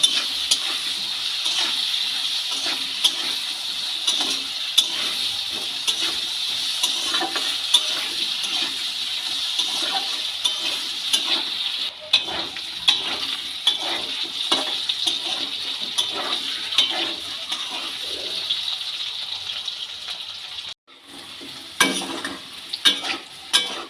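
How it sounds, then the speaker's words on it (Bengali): Potatoes frying with salt and turmeric, a continuous dense sizzle with light stirring clicks that holds steady throughout before a short break near the end. "নুন আর হলুদ দিয়ে আলুটা খুব ভালো করে ভেজে নেব।"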